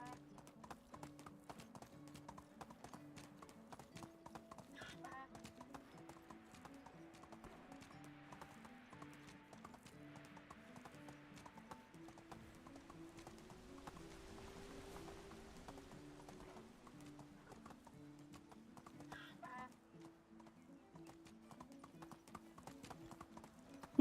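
Horse hooves clip-clopping at a steady walking rhythm while riding through winter terrain in the game Medieval Dynasty, with quiet footfalls repeating evenly throughout and faint ambient tones beneath, no speech.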